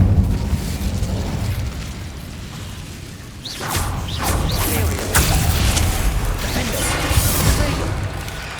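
Bombarda spell blasts in Hogwarts Legacy, a heavy rumbling explosion with bursts and whooshing debris, loud and sustained, followed by crackling impacts and a continuing roar.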